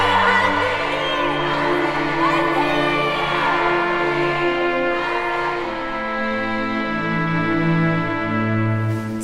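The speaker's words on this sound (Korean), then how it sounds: "서대문 형무소 전체가 순식간에 만세운동 함성으로 휩싸입니다" A crowd of prisoners at Seodaemun Prison, led by women independence activists in women's cell 8, shout Manse cheers marking the first anniversary of the March 1st Movement. The voices are loud and sustained, with swelling cries over a steady musical backing.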